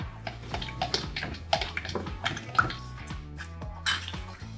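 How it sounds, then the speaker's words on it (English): A tool stirs pigment drops into water-based casting compound fluid in a container, giving light irregular clinks and scrapes against the sides, close and fairly quiet. "Give it a stir now."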